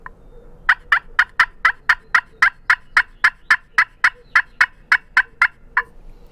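Turkey call sounded by hand to mimic a wild turkey, producing a loud, close run of about eighteen evenly spaced, rapid yelping clucks that ends abruptly; no voices.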